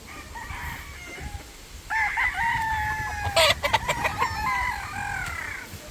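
A brood cock rooster crows in a long drawn-out call, close and loud, with a second bird's clucks and crowing overlapping near the end over a low background hum.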